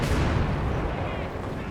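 An artillery barrage from the video game Company of Heroes 2 gives a loud, dense rumble of booming blasts that fills the whole moment and slowly fades.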